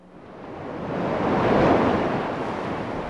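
Pacific Ocean surf on the rocky shore of Vancouver Island, Canada, a broad rushing wash of waves that swells to a peak and slowly eases, with wind noise mixed in.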